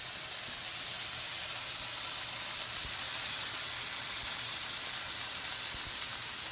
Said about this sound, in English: So I'm going to put this meat in here and just cook it up